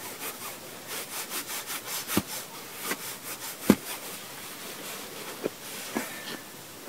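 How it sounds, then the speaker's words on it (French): Lime mortar being mixed by hand, shifted from the middle out to the sides, makes a repeated gritty scraping in a steady back-and-forth rhythm, close, with a few sharper knocks. "la technique classique pour mélanger le mortier c'est de prendre ce qu'il y a au milieu de le mettre sur les côtés."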